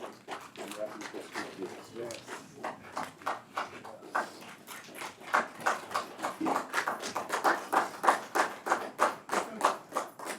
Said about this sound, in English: Ladies and gentlemen, let's give them a big round of applause.